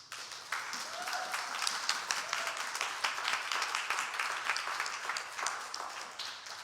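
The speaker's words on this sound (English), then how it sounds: "please give them a round of applause knowing how much they work so hard for you" A congregation at a Unitarian Universalist Flower Communion service applauds: sustained, even clapping from many people, moderately distant, holding steady for several seconds with a faint voice now and then.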